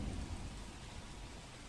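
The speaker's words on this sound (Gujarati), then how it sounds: "શહેરમાં મોડી રાતથી ધોધમાર વરસાદ વરસી રહ્યો છે" Heavy overnight rain in Valsad city streets, a dense continuous roar of downpour with a low rumbling undertone, steady and fairly loud with no voices.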